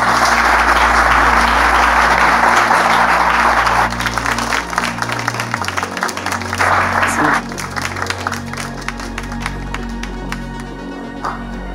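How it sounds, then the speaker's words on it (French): Loud studio audience applause greets a guest arriving on a French-language talk show, a dense wash of clapping over steady low music that thins out partway through and trails into scattered claps. "On peut l'accueillir avec des applaudissements, s'il vous plaît."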